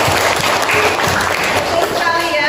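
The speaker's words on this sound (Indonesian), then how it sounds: "Oke, tepuk tangan buat teman-teman." Classmates clap for fellow students, a loud, close patter of applause from a small group, with a voice speaking over it briefly.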